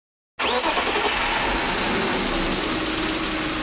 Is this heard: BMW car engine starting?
yes